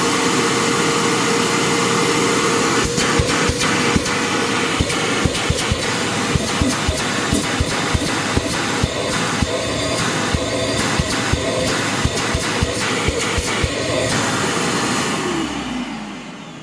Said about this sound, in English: So I'm just vacuuming out the motor and letting it blow itself out a little bit.